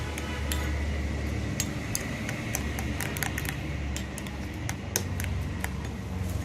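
Bleach cream is stirred in a small bowl, with a spoon ticking and scraping against the sides in a steady stream of light clicks over a constant background hiss.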